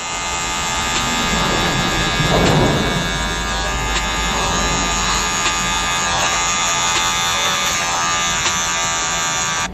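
Electric hair clippers with the lever fully closed buzz continuously and loudly up close while cutting a men's fade, the steady motor hum briefly thickening as the blade runs through hair.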